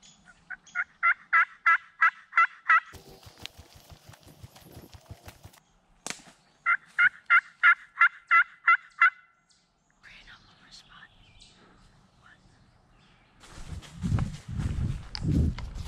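Wild turkeys in Wisconsin woods during a spring hunt give two loud, rapid gobbling bursts separated by quieter rustling and footsteps, then heavier breathing or brushing noises close by at the end.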